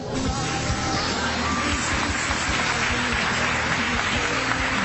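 Church congregation applauding during a worship service, a steady wash of clapping from a crowd mixed with faint voices, even in level throughout.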